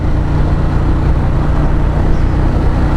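A 2016 Ducati Monster 1200 S motorcycle engine rumbles steadily at a relaxed cruising pace on country lanes, a continuous low throb with no talk over it.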